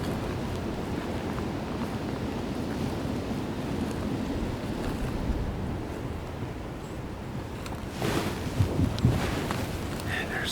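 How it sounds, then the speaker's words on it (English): Steady wind rushing across an open field on a public-land deer hunt, a continuous broadband roar near the microphone, swelling briefly with a louder gust near the end, no voices. "And I move when the wind picks up."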